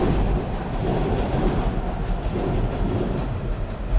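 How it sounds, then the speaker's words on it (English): A train rumbles past close by, a steady, loud low roar with a faint clatter of wheels running through the whole stretch, with no voices over it. "Here goes the train."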